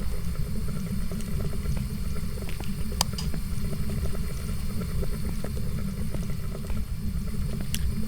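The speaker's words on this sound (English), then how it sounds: "But I am hearing" Low, murky churning and sloshing of dirty water in Phasmophobia fills the space steadily, with faint scattered drips and ticks above, no voices.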